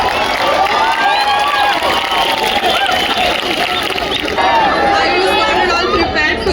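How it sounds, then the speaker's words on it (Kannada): A concert audience cheering and clapping, a loud dense roar of crowd noise with shouts and whoops rising over it, sustained and close for the whole stretch. "ಜೋರಾದ ಚಪ್ಪಾಳೆ ಬರಲಿ."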